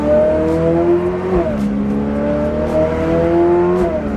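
Engine of an 850-horsepower Ferrari F8 Tributo revving hard and accelerating from inside the car, its rising note broken by quick gear shifts, loud and continuous with brief tire noise.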